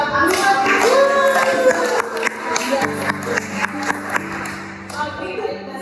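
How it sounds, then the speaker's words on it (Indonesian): Scattered clapping from a small audience at a podcast recording. A handful of distinct claps sound alongside and between people talking. "tepuk tangan buat Ahmad"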